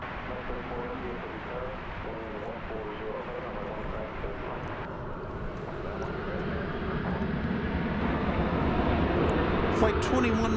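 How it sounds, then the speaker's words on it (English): Boeing 737-800 jet departing DFW Airport on a flight to Kansas City, its engine roar building steadily and growing louder toward the end as it climbs out, with a voice talking over the noise at the start. "2107 is departing. This is going to Kansas City. It's a 737-800."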